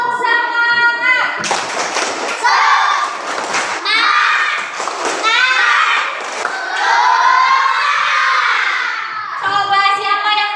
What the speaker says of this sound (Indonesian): biar lebih semangat lagi kita tepuk semangat